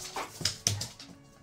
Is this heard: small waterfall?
no